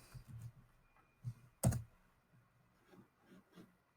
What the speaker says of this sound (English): you're going to want to type in Elementor in the keyword search box